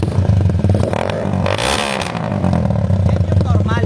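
A motorcycle engine revs loudly up close, rising to a sharp peak midway before settling back into a steady rumble.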